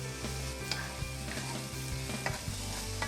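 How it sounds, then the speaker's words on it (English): Peppers and onions sizzling in a pan as they are stirred, a soft steady fry with a few light knocks and scrapes of the spoon, fairly quiet and close. "I gotta give my peppers and onions a quick stir"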